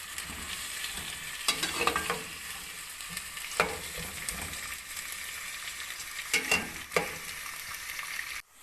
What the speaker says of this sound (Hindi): ये हम अपने प्याज इसके अंदर डाल देंगे और इसे ब्राउन कर देंगे।